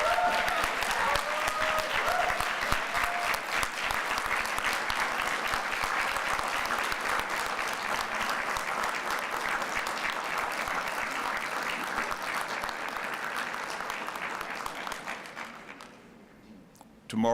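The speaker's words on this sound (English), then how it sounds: "give a round of applause to family, friends, faculty who have helped you here today" Graduates and guests at a university convocation awards ceremony give a long, full round of applause that stays loud and steady, then thins and fades near the end before a brief sound returns.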